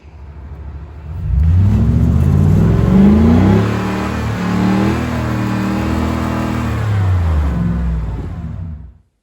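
A car on street tires revs hard while stuck in deep snow, the engine climbing to a loud sustained roar, then holding a steady high drone before cutting off.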